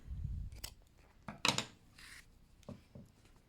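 Scissors cut crochet yarn close up: a few quiet, crisp snips and rubbing clicks spaced irregularly, with soft handling noise between them.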